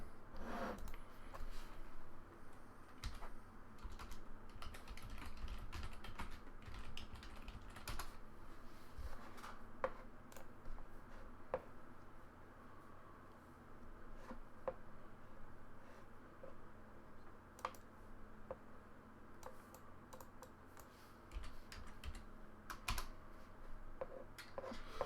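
Computer keyboard typing for a Google search, with irregular bursts of keystrokes running steadily for about 25 seconds at close range, with no talking over it.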